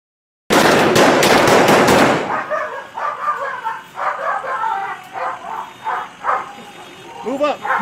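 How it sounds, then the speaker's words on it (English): Police officers firing rifles during a standoff at an apartment complex: a rapid burst of loud, close gunshots fired in quick succession, then shouting voices and a barking dog. "officers discharged their rifles"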